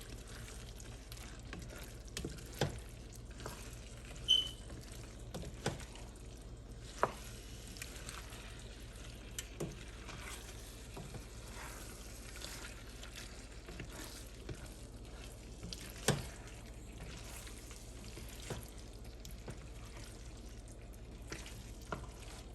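Coconut curry shrimp pasta being stirred in a pan, with a steady low sizzle and frying hiss broken by soft scraping and clicking spikes of the utensil, close and continuous with no talk.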